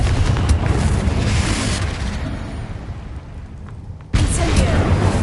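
Confringo blast spell cast in the video game Hogwarts Legacy, a loud booming burst over sustained rumbling game noise, dipping briefly before another sharp, loud blast erupts near the end.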